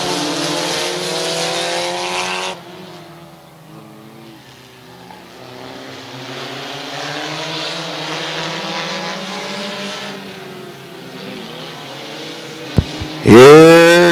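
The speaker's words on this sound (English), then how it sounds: "Here comes on the outside the 68 of Robinson" Race cars at Midvale Speedway roar past on the oval, a loud engine drone that fades and swells as the pack circles, ending in a sharp close pass with a brief clatter.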